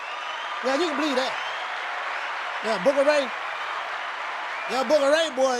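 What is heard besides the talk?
round of applause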